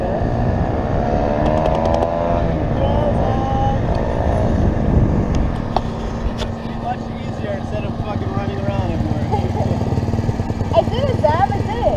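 A superbike engine at a race track hums steadily with a continuous motor drone and shifting pitch, loud and constant, while people talk over it.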